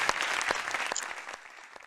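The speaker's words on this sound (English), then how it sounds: "Let's hear some applause for all those folks." Brief applause at a gala, a modest group clapping with distinct individual claps, fairly faint and tapering off within two seconds.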